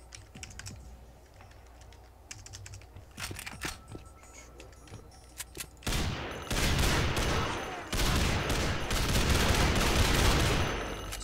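A FAMAS rifle fires in a video game, dense loud bursts of rapid shots arriving in the latter half after quieter clicking and tapping.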